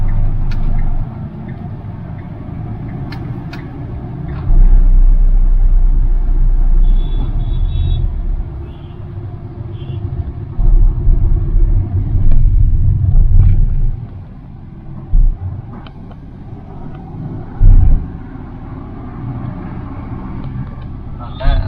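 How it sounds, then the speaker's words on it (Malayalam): A new Force Urbania van run by Maharaja Travels drives on the road, its engine rumbling steadily from inside the cabin with deeper surges and bumps of road noise throughout. "അപ്പൊ നമുക്കിന്ന് അർബാനിയ ഒന്ന് ഓടിച്ചു നോക്കാം"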